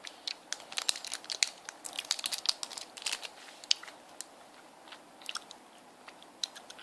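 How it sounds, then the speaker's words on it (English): Hi-Chew candy is chewed up close, giving a quiet, continuous run of soft, sticky chewing and mouth clicks, with faint crinkly sounds from the wrapper and no talking. "These take a long time to chew."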